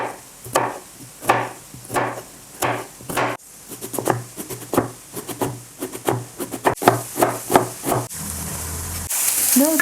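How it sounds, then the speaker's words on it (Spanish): Vegetables being chopped with a knife on a cutting board for lasagna, a brisk run of loud, close knocks in uneven bursts, with bacon frying in a pan beside it and a sizzle rising near the end. "vamos a cortar las verduras."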